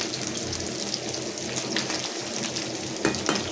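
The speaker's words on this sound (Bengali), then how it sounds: "পাঙাশ মাছটা এভাবে ভাজি করে রাখবো, আমার বাবু খাবে।" Pangas fish frying in hot oil, a dense, loud, continuous sizzle with crackling spits and a couple of sharper pops, heard close with no voices.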